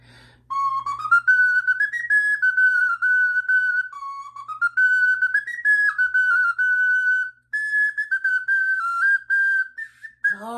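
An ocarina plays a slow, wavering melody of a tune credited to King Henry VIII, performed by a hesitant amateur. The notes are sustained and breathy and fairly close, running for about ten seconds before the playing falters and stops.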